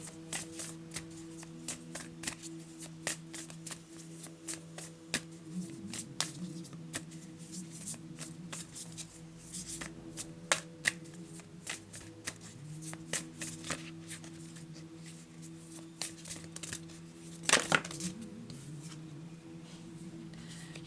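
Steady riffling and soft slapping of a deck of oracle cards being shuffled, with a continuous low hum underneath and a brief louder flurry near the end.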